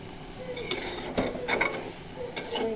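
Dried fish (shutki) frying in a pan, with a soft steady sizzle under repeated scraping and clinking strokes of a utensil stirring against the metal, close and moderately quiet.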